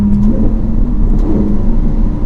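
A Lamborghini Aventador LP700-4's naturally aspirated V12 rumbles loud and close, its exhaust note holding a deep, throaty drone with slight rises in revs.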